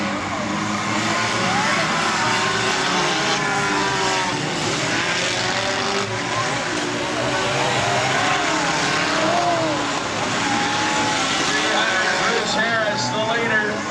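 Cars race around the track at the PNE demolition derby, their engines roaring loudly and continuously with rising and falling revs and occasional tire squeal, amid crowd noise.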